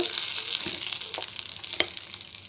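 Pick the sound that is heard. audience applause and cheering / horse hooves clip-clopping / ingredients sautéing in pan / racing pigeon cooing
ingredients sautéing in pan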